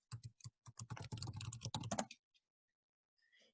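Quick bursts of keystrokes on a computer keyboard as login credentials are entered, a close, clicky run of taps that stops abruptly, followed by near silence and a faint tap at the end.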